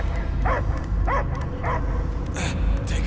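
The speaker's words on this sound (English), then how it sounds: "I hear only barking." Dog barking in the Guardians of the Galaxy video game, a few short barks and yips repeating at a steady pace over a background game soundscape with voices.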